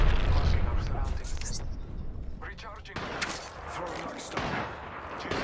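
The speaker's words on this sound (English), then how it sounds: "How many grenades this motherfucker got?" Grenades explode during an Apex Legends match: loud repeated booms and gunfire crackle run through the clip while players talk over them.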